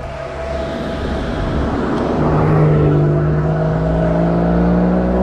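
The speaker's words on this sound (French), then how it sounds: "Un mec qui accélère un peu, tu vois" A vehicle on a motorcycle tour across France with a KTM 690 Supermotard and a BMW 1200 GS accelerates, its engine note climbing steadily and loud over constant road and wind rumble.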